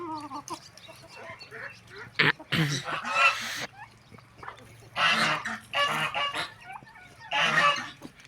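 Ducks and turkeys call in a series of loud, harsh honking bursts close by, several overlapping calls spread across the stretch over a low steady hum.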